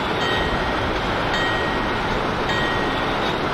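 Interior of an Amtrak Carolinian passenger train in motion, a loud, steady broadband rumble and rush of the running train without pauses.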